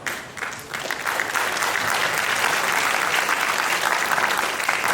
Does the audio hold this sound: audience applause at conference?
yes